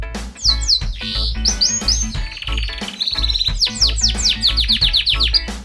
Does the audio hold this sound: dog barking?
no